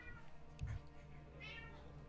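A domestic house cat meows indoors, giving one or two short, quiet meows over a low room hum.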